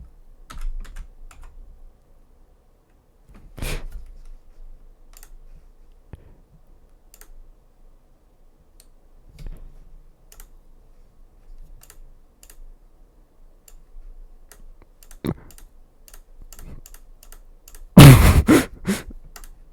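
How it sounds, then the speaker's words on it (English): Fingers type on a computer keyboard in scattered, sparse clicks and taps up close, with a louder clatter near the end. "Some of you who know will know before I even finish typing this out."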